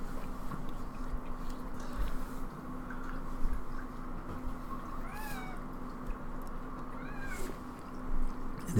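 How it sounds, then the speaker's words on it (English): A cat meows twice in the background, each a faint, drawn-out rising-and-falling cry, beneath a steady noisy room hum during a Magic: The Gathering match. "I don't know if you guys can hear the cat in the background."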